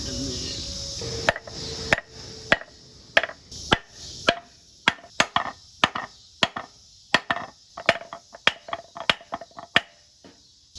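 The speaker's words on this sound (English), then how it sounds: "I'm gonna take a piece of wood and this hammer, insert that, try to get it as straight as I can" Hammer driving a piece of wood to seat a part from a Collins adapter clutch kit, a long run of sharp, close knocks, irregular at first and then coming quicker and steadier, with no talk.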